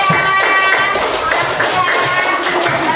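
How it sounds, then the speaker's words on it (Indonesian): Children in a classroom clap in quick, uneven bursts of taps, loud and close, with voices talking over them. "Tepuk tangan dulu teman."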